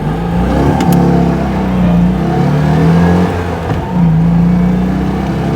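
A Citroën 2CV accelerating hard on a slightly downhill timing run, its small engine droning steadily and rising in pitch through the gears, loud and close, with no talking.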